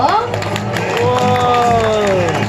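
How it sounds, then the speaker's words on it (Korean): Applause and cheering from a crowd at a public event, heard under a prominent singing or talking voice that dominates the foreground. "다시 한번 큰 박수 부탁드릴게요."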